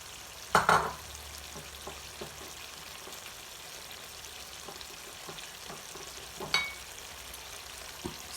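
Round-cut onions fry with nearly cooked potatoes in a pan for a mutton black pepper roast, giving a low steady sizzle with a couple of sharp utensil clunks near the start and later.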